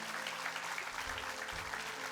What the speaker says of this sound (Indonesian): oke sekali lagi tepuk tangan untuk Mas Firdaus